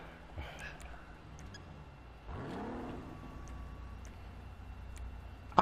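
A car driving in GTA V Online, a freshly won casino prize vehicle, with a low engine rumble that swells midway, faint and steady behind quiet background noise.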